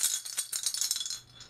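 A Krampus bell is shaken in a quick jangly burst of bright metallic rattling that fades over about a second and a half, close and moderately loud, with no talking.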